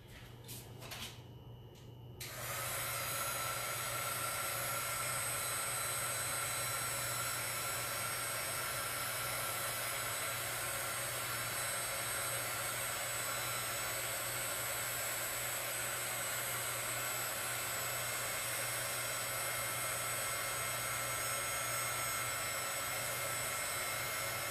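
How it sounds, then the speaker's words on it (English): A heat gun melts embossing powder on a stamped card. After a brief start it settles into a faint, steady blowing whir that runs without a break for over twenty seconds. "So once you've heat embossed it with your heat gun, you can see how shiny that image becomes"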